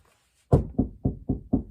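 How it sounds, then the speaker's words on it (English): Five firm knocks on wood come in a quick, even rhythm after a brief silence, each a dull close thud. "knock on wood"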